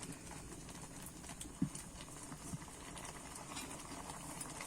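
Olive pickle simmers in a pot, giving a constant low bubbling hiss with a couple of soft knocks, close and fairly quiet, with no talking.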